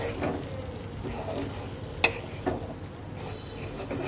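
Dried fish (shutki) stir-fried in spices in a pan over low heat, giving a steady low sizzle with soft scraping stirs and a couple of sharp utensil knocks, no voices.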